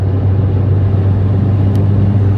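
A loud straight-piped 1.2 TSI car exhaust drones steadily at full throttle, with a deep, sustained low rumble and no break throughout.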